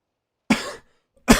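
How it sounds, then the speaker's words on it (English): Two dry coughs from a person with a lingering cold, close and fairly loud: a longer rasping cough, a pause, then a short sharp second cough. "it's like a dry cough now."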